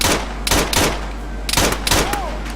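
A machine gun fires in short bursts of sharp, loud shots over a steady low hum during first-person video game play, with distinct volleys spaced irregularly through the clip.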